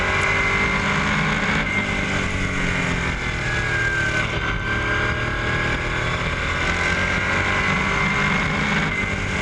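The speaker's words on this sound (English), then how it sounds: "This is Jim Barker we're passing" A race car engine roars steadily at speed on a short oval track while passing another car, a continuous loud buzzing drone with shifting pitch and no break throughout.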